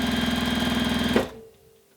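A sewing machine stitching during free-motion quilting, a fast, steady mechanical hum with rhythmic needle beats that stops abruptly after about a second.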